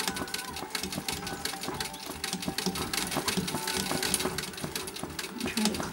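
Vintage treadle sewing machine stitching free motion embroidery, a fast steady mechanical clatter running under a person talking.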